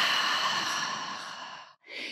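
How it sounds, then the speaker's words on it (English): A long, steady exhale during a yoga session, breathy and close for nearly two seconds, followed by a brief pause and the start of a short breath. "And then exhale it out."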